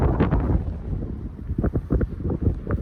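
Wind gusts buffet a small lookout tower at midnight in hard frost around minus ten, loud rough rumbling bursts pressing against the microphone, with no voices.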